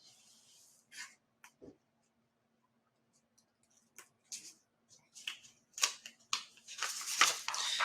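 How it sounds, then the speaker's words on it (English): Paper rustles, slides and crinkles as a fresh sheet is taken: scattered light scrapes and taps at first, then growing louder close-up handling toward the end, with no talking. "I'll get myself a fresh piece of paper."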